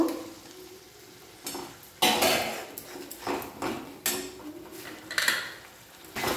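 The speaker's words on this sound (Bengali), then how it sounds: "টমেটোটা যতক্ষণ গলবে না ততক্ষণ আমি কষতে থাকবো" Chopped tomatoes sizzle in spiced oil with green chilli paste for aloo dum while a spoon stirs and scrapes the pan in uneven bursts, close up over a steady frying hiss.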